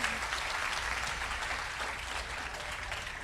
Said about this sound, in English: Guys, you can give a round of applause to your winner.